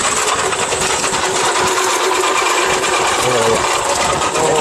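An electric juicer grinds a carrot with a loud, steady, high-pitched whirring buzz that runs without a break, close to the listener.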